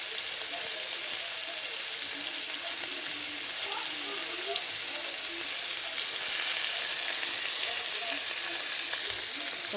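Two large chopped onions fry in hot oil for a restaurant-style mutton biryani with jeeraga samba rice, giving a steady, dense sizzle that holds evenly throughout without pauses.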